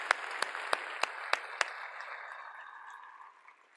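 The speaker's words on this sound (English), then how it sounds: "I'm just going to give a round of applause for" A conference audience at EmberConf gives faint, distant applause: a few sharp claps punctuate the start before the clapping thins and fades away quietly.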